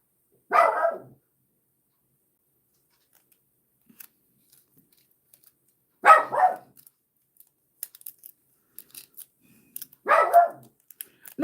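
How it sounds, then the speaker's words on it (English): Three short, sharp bursts from a dog named Mistletoe, spaced several seconds apart in an otherwise quiet indoor room, each a brief moderately loud bark with no talk over it. "what are you barking at?"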